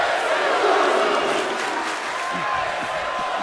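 A loud, continuous wrestling arena crowd roars in the WWE 2K24 video game, with cheering and shouts swelling, while a commentator talks over the noise.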